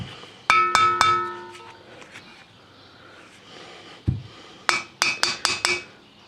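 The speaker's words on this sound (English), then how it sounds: "take your hammer and just gently tap" Light metallic taps from a hammer on a front wheel bearing part of a Chevy Aveo, a quick cluster of three near the start, one dull knock midway, then a run of five evenly spaced ringing strikes.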